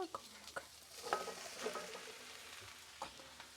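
Pumpkin pieces going into a pan of softened onions, with a steady low sizzle broken by a few sharp clinks and scrapes of stirring, close and moderately quiet.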